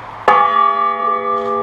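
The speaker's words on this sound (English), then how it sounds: "now they are ringing the bell" A church bell is struck once and rings on with a long, steady sustained tone that fades only slightly, loud and close, with no talking.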